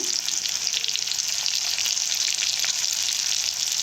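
Rounds of bottle gourd fry with Kashmiri chili while being stirred, producing a loud, dense, continuous sizzle with light crackling and no pauses.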